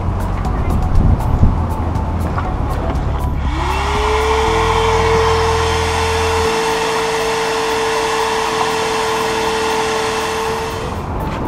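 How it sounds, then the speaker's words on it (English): A loud, steady motorized whir starts after a few seconds and holds a constant high drone, like a vacuum cleaner running close by. "Here's your vacuum. Start cleaning everything out."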